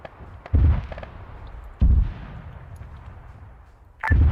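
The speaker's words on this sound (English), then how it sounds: "here comes that rocket artillery" Rocket artillery firing in the Arma 3 video game, three heavy booming launches spaced a couple of seconds apart, each with a rumbling tail, loud and fairly close.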